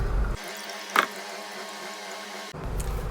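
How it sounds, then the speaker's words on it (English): Water draining out of a basket of soaked grains, a faint steady trickle with a brief splashy burst near the start, set between louder bursts of flowing water at either end. "Just make sure that all the water drains out properly."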